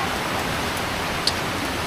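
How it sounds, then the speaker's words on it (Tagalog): Heavy rain pours steadily amid flooding and swirling wind, an unbroken close wash of hiss with one brief sharp tick near the end. "Lakas ng ulan na naman, kasasabi lang."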